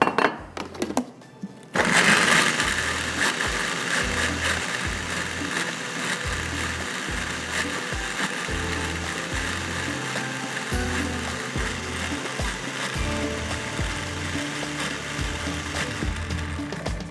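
A chopper blender motor whirs and grinds chutney with a little water loudly and steadily after a brief quiet start, with a faint rhythmic thumping underneath.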